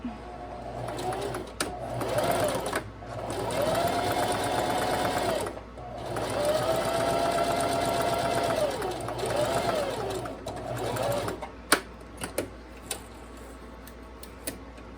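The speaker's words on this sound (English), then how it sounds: "The fold is in the center of my presser foot, and I'm sewing right alongside it." A sewing machine stitches a fabric face mask along a fold at the center of the presser foot, whirring steadily and closely in several runs, then trailing off into a few clicks and taps.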